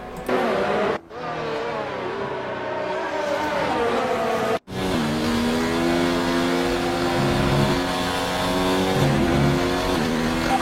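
A race car engine in a racing video game revs continuously and loudly, its pitch climbing and dropping through gear changes, with two sharp cuts where the sound drops out briefly before the engine roars back.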